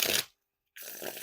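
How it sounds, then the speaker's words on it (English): Two close bursts of a deck of Fulton's October playing cards being riffle shuffled, crisp rapid fluttering of card stock separated by a short silent gap, heard alone and near. "So definitely no issues with the riffle shuffles or bridge shuffles."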